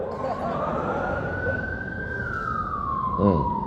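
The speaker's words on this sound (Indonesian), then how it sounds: "Kalau ambulan lewat dulu ada orang sakit atau pejabat lewat." An ambulance siren wails in a long sweeping tone that rises and falls, loud and steady over traffic rumble, with a brief voice near the end.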